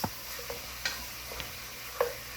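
Beef browning in a soup pot, a faint steady sizzle under a few light scrapes and clicks of stirring, close and quiet, no talking.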